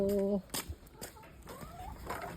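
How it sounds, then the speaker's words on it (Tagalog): A rooster call cuts off at the start, followed by scattered soft clucks and rustles from nearby chickens. "Ang mga manok namin, nangingitlog na ba kayo?"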